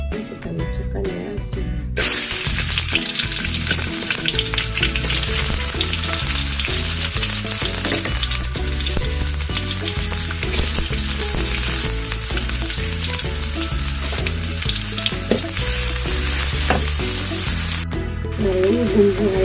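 Shallots sizzling and frying in hot oil in a pan on the stove, a loud, steady crackle that begins after a brief quieter start and runs continuously with occasional stirring clatter.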